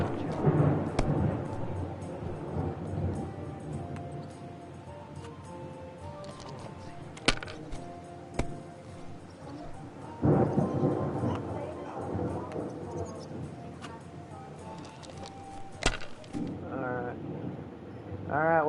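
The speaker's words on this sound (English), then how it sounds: "There's a huge storm, as you can hear in the background." A real thunderstorm rumbles faintly in the background, with a few louder cracks standing out, all under steady conversational talk and game sounds that include hoofbeats.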